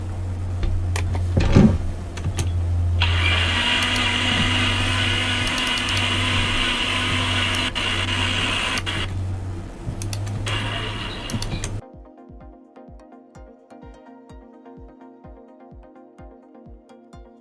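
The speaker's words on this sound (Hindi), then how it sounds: "इसको अब ब्लेंडर में मैं मिक्स करूँगी।" A blender mixing coffee gives a loud, steady motorized whir for several seconds and then cuts off abruptly, followed by a quieter, regular ticking.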